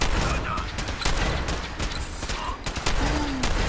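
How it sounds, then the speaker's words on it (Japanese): Gunfire cracks out in the video game Fallout 4, several sharp blasts spaced unevenly over a steady background of ambient game noise, fairly loud and close. "これはショットガンだ。"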